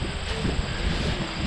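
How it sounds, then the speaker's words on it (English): Steady outdoor wind gusting across open fen country at Gallagher Fen, a continuous broadband rush with low buffeting rumble against the microphone, no voices. "It's gotten kind of windy."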